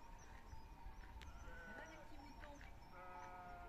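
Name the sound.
sheep bleating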